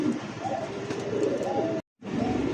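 Two Andalusian racer pigeons coo close by in a loft, giving soft, low, rolling calls. The calls carry on steadily, then stop briefly before resuming.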